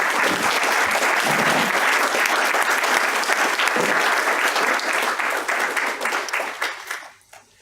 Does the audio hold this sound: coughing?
no